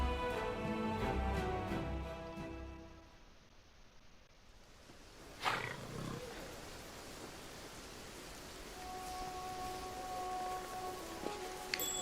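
Steady rain and wind in the fantasy role-playing game Pathfinder: Wrath of the Righteous, a soft continuous hiss with a few brief tonal game sounds over it, moderately quiet and without speech.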